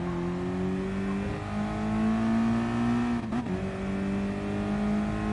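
Mazda Miata engine in the racing game Gran Turismo Sport, a steady loud drone held at near-constant revs, with a brief dip and shift around the middle before the tone resumes; no talk.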